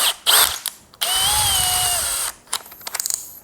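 Bosch GSB 185 LI cordless brushless hammer drill with a 6 mm bit boring into a 3.5 cm thick steel plate at low speed, a steady whining run of about a second amid clicks and mechanical knocks.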